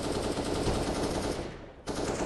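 Rapid automatic gunfire from a Counter-Strike match between Avez and Secret at BLAST Rising, loud and continuous bursts with a brief dip near the end before firing resumes.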